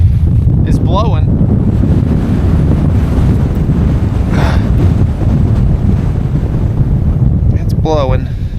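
Wind gusts roar across open lake ice, buffeting the microphone in a loud, continuous rumble, with a few faint high chirps and scrapes breaking through.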